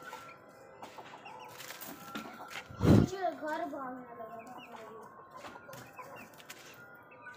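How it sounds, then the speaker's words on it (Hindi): A pet rooster clucks in a yard, with one loud, close burst of clucking in the middle followed by softer calls, while people talk nearby throughout. "ये तो भाग गया था इनका मुर्गा,"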